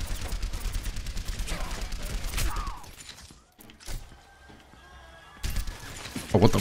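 Dense rapid gunfire with heavy recoil in a video game, a continuous close stream of shots that pauses, then resumes loudly, with faint background noise between.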